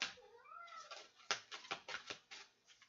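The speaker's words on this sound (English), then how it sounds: "You hear the cat?" A cat meows close by in a drawn-out, wavering call that breaks into a quick series of short, chirpy cries, fairly quiet and heard on its own.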